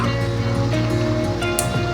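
Continuous rushing water at a grotto in front of a hospital fills the scene, a steady wash of sound over a low background hum.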